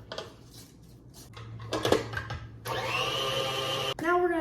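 An electric mixer whirs through a cheesecake mixture in a bowl, starting softly with scraping and clinks, then rising into a steady loud drone that cuts out and restarts, with a voice speaking at times.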